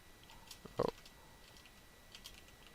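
Quiet keystrokes on a computer keyboard while coding HTML and CSS, a few soft scattered taps with one brief louder cluster, close and alone.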